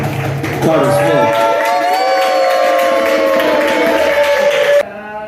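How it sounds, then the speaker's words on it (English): A crowd at a poetry open-mic event claps and cheers loudly, with whooping, sustained voices over the applause that cut off abruptly near the end. "Start clapping for my man, Carter"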